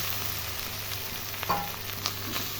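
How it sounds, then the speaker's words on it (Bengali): Boiled lentil filling for dal puri fries and is stirred in a pan with turmeric, a steady soft sizzle close by with a few light scraping taps of the spoon. "এখন নাড়াচাড়া করি, একটু ভাজা ভাজা করে নিই"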